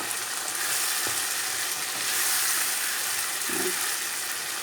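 Vegetables with diced tomatoes sizzle steadily in a hot pan while a utensil scrapes and stirs through them, with occasional clinks, close and without speech.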